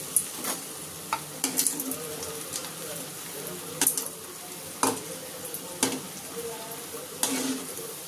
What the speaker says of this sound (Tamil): இப்போ ஒவ்வொன்றா போட்டு நம்ம ஃப்ரை பண்ணி எடுத்துக்கலாம்.